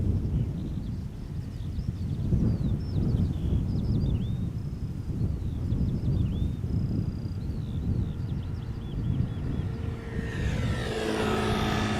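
Boeing 747 on approach to land at Schiphol, a steady low engine roar with wind, building toward the end as the jet draws nearer, with birds chirping faintly above.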